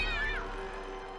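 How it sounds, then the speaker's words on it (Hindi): A cartoon cat gives a single short meow that slides downward in pitch, set against faint background sound. "जल्दी आओ, बिल्लियाँ आ गई।"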